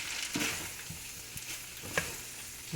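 Shrimp, kale and tomatoes sizzle in a hot pan, with a few brief scraping tosses and clatters over a steady frying hiss, close and moderately loud, with no voices.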